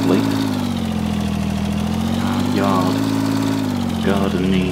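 A grass mower engine in Farming Simulator 19 drones at a steady idle-like hum throughout, close and continuous, with a voice talking over it.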